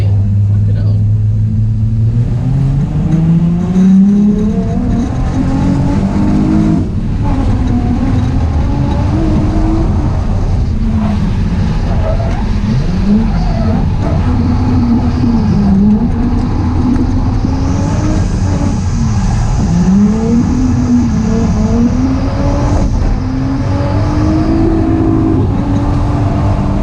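A car driven fast on a slippery track along walls, its engine droning loudly and rising and falling in pitch as it accelerates and lifts off, steady and close throughout.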